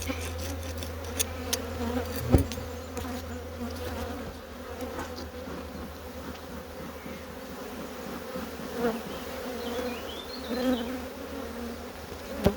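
Steady, dense buzzing of many honeybees close by at an open hive, a continuous hum with occasional louder passes and a sharp knock near the start.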